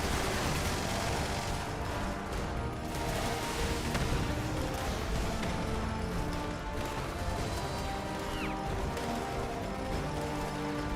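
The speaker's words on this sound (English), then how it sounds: "I can hear gunfire, but I don't see the Scorch." Gunfire in the video game Fallout 76, heard as a dense, continuous rattle of shots and impacts that stays loud and steady throughout, with no talk over it.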